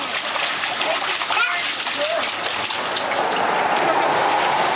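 Water splashes and sloshes in a swimming pool, with a steady patter of drops throughout and people talking and calling out over it.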